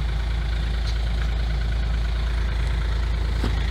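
A Smart Fortwo's tiny 0.8 CDI turbodiesel idles close by with the floor panel lifted. It gives a steady, even, low diesel clatter and drone throughout, with no voices.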